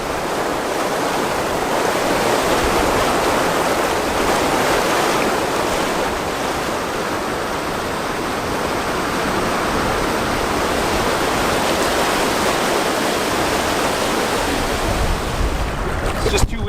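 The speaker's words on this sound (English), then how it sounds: "There's an obstacle ahead on the Shabbatic. Looks like a pretty decent rapid." Steady, loud rush of churning water from a river rapid on the Shabbatic fills everything, a broad unbroken roar like rapids nearby, with wind noise mixed in.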